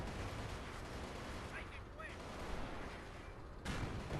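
Javelin missile strike on a Type 59 tank during a Company of Heroes match, a dense wash of battle noise with heavy booming fire that swells again near the end, under faint commentary.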